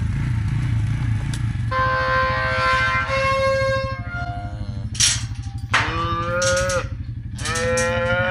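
Cattle moo loudly and repeatedly close by in a pen holding five or six cows with newborn calves, long drawn-out calls overlapping one another above a steady low rumble.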